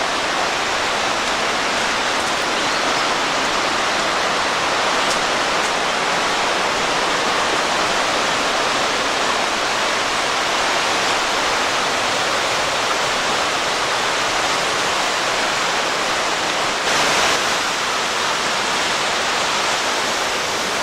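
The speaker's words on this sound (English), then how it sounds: "Hear the sound of the creek." Steady, full rush of water cascading down Glade Creek in New River Gorge, a dense unbroken roar that stays constant throughout with no voices.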